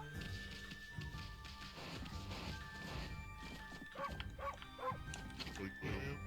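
A white dog in Okami barks a few times, short game yaps rising near the end over a busy bed of game music and effects, with someone talking over it.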